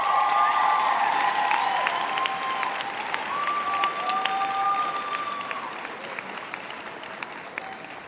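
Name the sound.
audience applause at graduation ceremony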